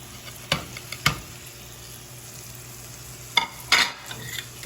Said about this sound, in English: So just toss your meat in.